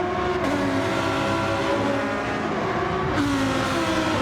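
Race car engine droning continuously in a sim racing game at Road Atlanta, loud and close with steady high revs and a couple of brief gear-shift dips, nobody speaking.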